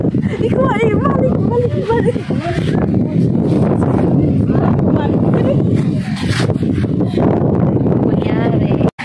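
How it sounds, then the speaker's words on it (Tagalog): Strong seaside wind in Kuwait roars and buffets the microphone throughout, with a voice speaking over the gusts. "lakas ng hangin."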